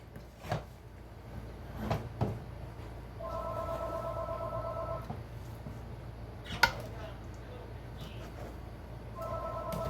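A telephone rings in a home kitchen where jam is being made. Two electronic ring bursts sound several seconds apart, mixed with scattered knocks and clatter from nearby cooking.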